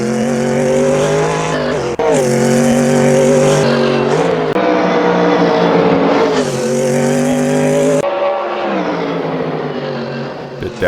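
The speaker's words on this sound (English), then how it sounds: "Huge top speed in these Group C cars." A Group C race car in a racing game screams along at high speed, its engine droning steadily with sharp gear-change breaks and rising revs, loud and close throughout.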